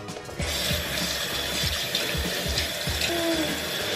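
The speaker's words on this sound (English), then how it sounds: "I'm gonna wash my face now." Running water from a tap splashes continuously as someone washes their face at a sink, with close, uneven sloshing and dripping throughout and a faint squeak near the end.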